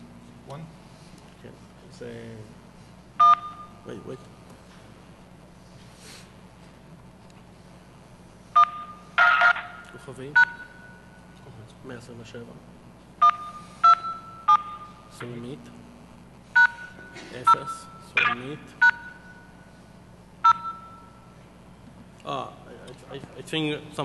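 Touch-tone DTMF dialing beeps from a phone during a live soft-phone demo at a DEFCON security talk, coming in short bursts and clusters of quick beeps spread across the stretch with talk in between.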